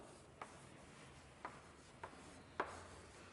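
A student writes on a classroom board, four faint, separate taps and strokes of chalk spaced irregularly over a quiet room hum, with no one speaking.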